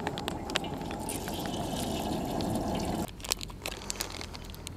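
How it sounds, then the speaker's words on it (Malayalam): Oil pours into a frying pan ahead of deep-frying samosas, a steady liquid trickle close by for about three seconds before it stops and a few light clinks and taps follow. "വറുത്തെടുക്കാനായിട്ട് നമുക്ക് ഓയിൽ ഒഴിച്ച് കൊടുക്കുക"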